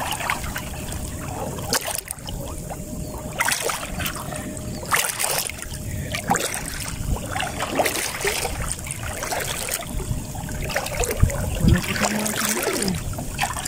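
Water trickling and flowing steadily into a small inlet with the stream's current, a continuous close wash of liquid with small splashes and gurgles throughout.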